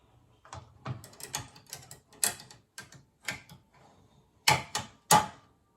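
An embroidery machine runs a placement stitch for a fall acorn decoration, tapping and clicking in irregular mechanical bursts that grow sharper and louder toward the end.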